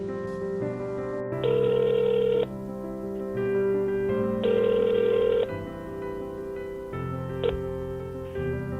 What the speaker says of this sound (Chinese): 他试着联系房东，但电话那头却始终传来：